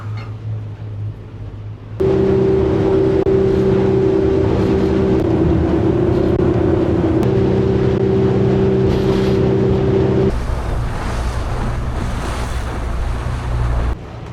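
A boat motor drones loudly with a steady hum alongside wind buffeting the microphone and water rushing past in remote Alaska, then the tone shifts as the engine changes speed.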